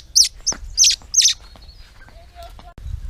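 A baby bird separated from its parents gives three sharp, high chirps in quick succession, close and clear, followed by quieter faint calls and a soft nearby voice.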